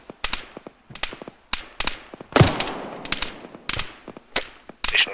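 Rifle and machine-gun fire in ArmA 3 during a British airborne section training exercise: sharp, irregular shots and short bursts, some close and loud, others farther off, with one heavier blast mid-way.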